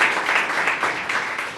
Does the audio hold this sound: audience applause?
yes